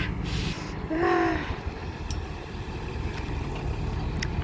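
A roughly two-ton backhoe excavator engine runs steadily and loud close by, a constant rumbling drone with a brief tonal whine near the start and a few faint clanks.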